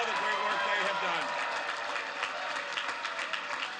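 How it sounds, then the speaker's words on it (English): Crowd applause fills an election night victory rally, sustained dense clapping with cheering throughout, a steady wash of sound close and loud. "give them a great round of applause for all the great work they have done."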